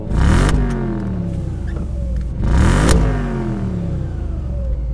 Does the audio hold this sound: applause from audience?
no